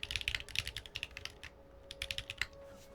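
Rapid clicky keystrokes from a mechanical keyboard fitted with Box V2 White clicky switches, close and crisp, in uneven bursts with a brief pause midway, steady faint hum beneath and no talking.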